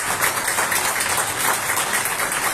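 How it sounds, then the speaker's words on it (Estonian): A large indoor audience at a dance competition opening applauds the sponsors with steady, dense clapping that stays loud and continuous throughout, with no voices over it. "Teeme suure aplausi neile kahele ettevõttele."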